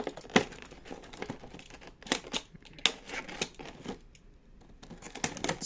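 Scissors or a blade work through the cardboard packaging of an action figure box, giving quiet, close crinkles, snips and tearing crackles in an irregular string of short bursts.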